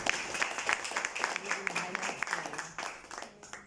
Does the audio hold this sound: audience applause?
yes